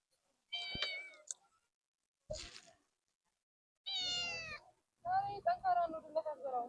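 A cat meows several times, close and clear, in short separate calls with pauses between them and a longer, wavering run of meows at the end.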